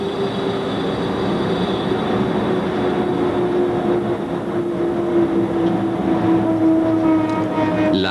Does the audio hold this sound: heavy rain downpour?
no